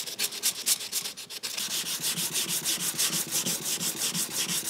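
Steady rhythmic rubbing strokes of sandpaper stripping paint from a 2007 Subaru STi rear bumper, close and fairly quiet, with a brief pause partway through and no talking.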